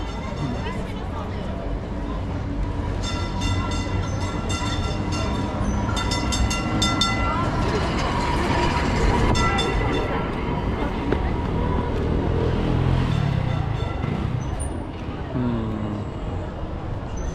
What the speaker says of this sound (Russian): Трамвай идет, представляете?